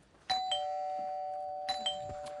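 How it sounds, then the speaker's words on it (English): A doorbell sound effect on the improv show Whose Line Is It Anyway UK rings twice, each a bright two-tone chime that lingers and rings out, with a little background rustle between presses. "the sound of a doorbell"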